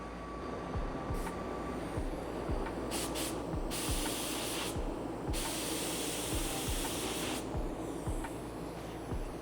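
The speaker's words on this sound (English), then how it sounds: "So when I'm applying this sealer, I want to have my pressure a little bit higher, probably about 45 pounds." A spray gun at about 45 psi lays a sealer coat onto a real gold table base, giving a steady close hiss with several brighter, louder bursts over a low background rumble and no talking.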